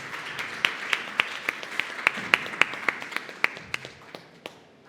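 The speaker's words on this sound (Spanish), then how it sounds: "Un fuerte aplauso," An audience of a small crowd claps for about four seconds, a light, sparse patter of individual claps that gradually thins and fades out.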